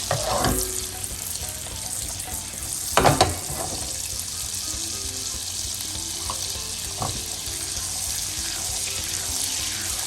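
Quick caramel for a tarte tatin cooking in a pan over a lowered flame, a steady close hiss and bubbling sizzle running throughout, broken by a few brief clattering utensil knocks near the start and middle, with no talk.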